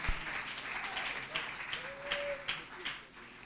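A church congregation applauds together in worship, a dense steady clapping with some voices and a sustained sung or shouted tone rising over it.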